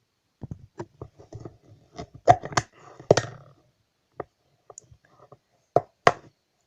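A tub of red play dough being opened, heard as a series of sharp plastic clicks and knocks of varying loudness, close by, with short gaps between them and no talking.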